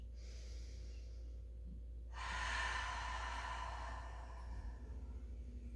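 A single long, breathy exhale during a Pilates mat exercise, close and soft, rising suddenly and then fading over a quiet background hum.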